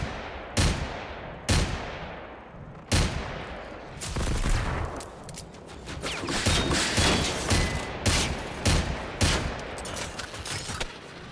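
Enemy gunfire in the open-world shooter Generation Zero, with several sharp loud shots early on followed by a dense ragged barrage of rapid bursts and echoing cracks.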